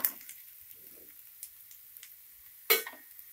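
Mushrooms and onions fry in a pan for a tomato mushroom gravy, with a soft, crackly sizzle and scattered sharp clicks and scrapes as they are stirred. It sounds quiet and close, with no talk.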